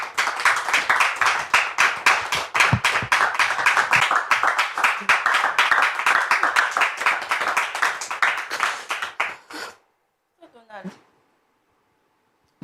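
Church congregation applauding loudly and steadily for about ten seconds as a guest arrives, dense hand claps filling the room before stopping abruptly, followed by a brief murmur.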